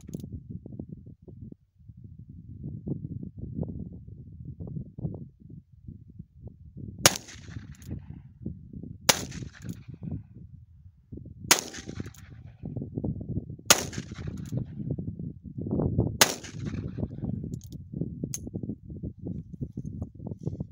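Five sharp, loud revolver shots from a Cimarron 1875 Outlaw, spaced a couple of seconds apart over a steady low outdoor rumble.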